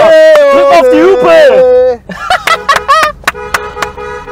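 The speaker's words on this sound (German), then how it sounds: "drück auf die Hupe!" Loud, sustained car horn blasts ring out, followed by a series of shorter honks in quick bursts, close by.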